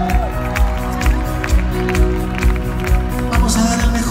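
Live concert crowd applauding a keyboardist, steady loud clapping and cheering in a large venue, blended with ongoing band music and a rhythmic beat throughout.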